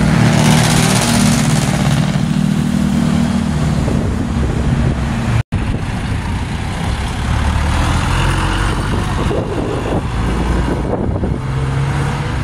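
A jeepney's 4D32 diesel engine runs loud and close in a steady rumble, with heavy wind buffeting over it and one brief cut midway.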